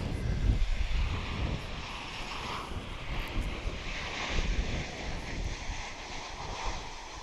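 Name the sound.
American Airlines Boeing 737-800 landing at DFW airport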